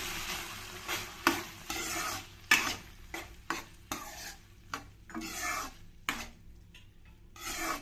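Avarekalu beans and cooked moong dal stirred in a pot, a series of distinct rasping scrapes in an uneven rhythm over a faint sizzle, close and without voices.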